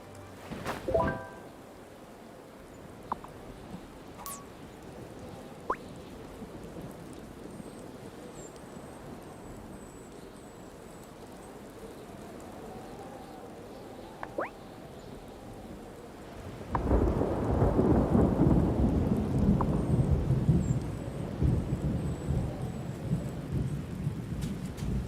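Thunderstorm summoned in the Wylde Flowers video game: a sharp thunderclap opens, followed by a long, quiet stretch with faint rumbles. Then heavy rain sweeps in and hisses loudly and steadily to the end, with no talking.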